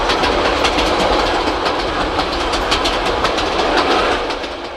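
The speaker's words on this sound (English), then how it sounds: "J10 wheels at a mile a minute across the Manawatu plains" J10 train running at speed across the Manawatu plains on the North Island Main Trunk, a steady loud roar of wheels on rail with rhythmic clickety-clack, continuous and close, easing slightly at the end.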